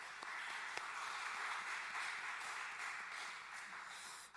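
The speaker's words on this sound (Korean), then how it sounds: "우리 헌신 1구역 가족들과 또 수요 경배 찬양팀 축복하고 격려하는 박수 하도록 하겠습니다" A church congregation at a Wednesday service applauds steadily for several seconds, a dense, even wash of clapping with no talking.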